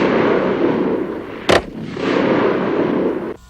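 An Advanced Combat Rifle firing caseless ammunition in a salvo burst makes a loud, sustained roar of rapid fire, broken midway by one sharp, piercing crack, then roaring on before cutting off.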